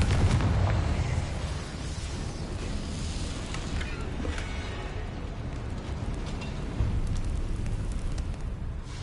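A Confringo blasting spell goes off in Hogwarts Legacy, a loud sustained roaring explosion with rumbling low end and debris-like crackle that persists throughout, alone without talk.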